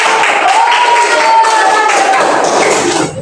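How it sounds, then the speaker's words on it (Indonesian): A classroom of people clapping together, a dense, steady patter of applause that carries on for a few seconds before tapering off. "Boleh kasih tepuk tangan."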